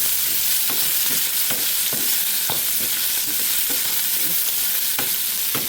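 Prawns fry in a pan with a loud, continuous sizzle up close, punctuated by repeated scraping stirs.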